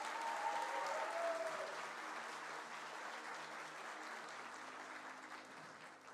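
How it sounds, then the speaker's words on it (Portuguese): A church congregation applauding, steady dense clapping that starts strong and gradually tapers off over several seconds. "Eu queria que vocês dessem uma salva de palmas para elas."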